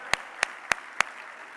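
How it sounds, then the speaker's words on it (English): Applause for academy fellows at a conference opening session, heard as four distinct, evenly spaced sharp claps standing out over a faint background of scattered clapping. "Colleagues, join me in applause for them."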